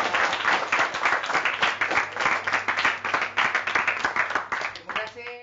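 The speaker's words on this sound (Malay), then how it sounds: "beri tepukan kepada kumpulan ini" A school history class claps for a student group after its presentation, rhythmic close-up clapping from many hands in a classroom, fairly loud and pulsing, tapering off at the end.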